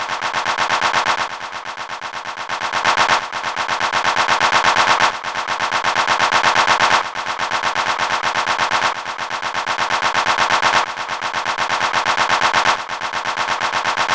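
A sample on a disting EX module has its volume pulsed by a tempo-synced LFO, giving a dense rapid chattering texture that swells and dips in regular, locked blocks of about two seconds, loud and continuous with no voices.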